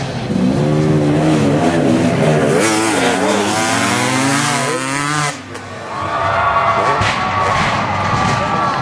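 Racing motorcycles roar along a track, two riders close together, engines loud and revving with rising and falling pitch as they pass near, then a brief dip before another engine surges back in.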